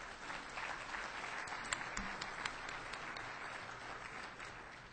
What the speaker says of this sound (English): and this also does deserve another round of applause